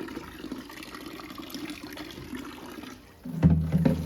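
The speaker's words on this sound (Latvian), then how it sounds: "paskalosim ar Evian ūdeni. Izskalosim" Evian mineral water swirling and splashing as a kettle is rinsed, a soft continuous trickle that swells into a louder, fuller pour toward the end, close up.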